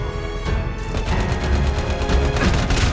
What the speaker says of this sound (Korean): 앞에서 총소리 여기 있다